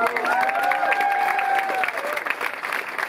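A crowd at the Cavern Club in Liverpool applauds and cheers a band, with a sustained roar of clapping and a high whistle or shout rising above it.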